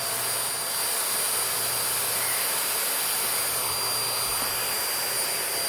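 A Shark vacuum cleaner roars steadily through a straight suction nozzle with air leaking around it, a loud, constant, unbroken whoosh with no talking.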